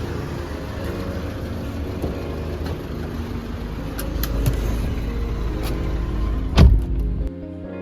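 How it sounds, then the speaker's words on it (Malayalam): Tuned, stage 1 remapped Volkswagen Vento with a 1.6-litre turbo engine, steady cabin drone of the car driving at a constant pace, a brief louder thump near the end before it cuts off. "നമ്മൾ കാറിൽ കയറി പോവാണ്."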